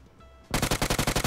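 Rapid automatic gunfire in a video game firing blue bullets, a quick burst of about ten loud, evenly spaced shots that starts abruptly after a moment of quiet background.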